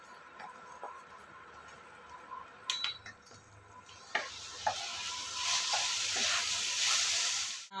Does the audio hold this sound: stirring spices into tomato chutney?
yes